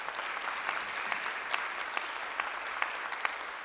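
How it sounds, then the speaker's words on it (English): Audience applause at a youth apprenticeship launch event in Buffalo, steady even clapping from a large crowd heard at some distance, continuous throughout. "Let's give him a round of applause."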